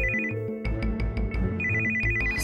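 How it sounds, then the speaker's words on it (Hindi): Mobile phone ringtone playing a repeating electronic melody with a steady beat, loud and close, continuous throughout with no voices. "सर फोन आ रहा है मम्मी की नर्स का, शायद कुछ अर्जेंट हो सकता है।"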